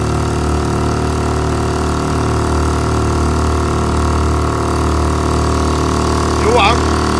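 A motorboat engine drones steadily and up close, a continuous mid-pitched rumble with a faint higher whine that stays even from start to finish, while a voice briefly calls out near the end.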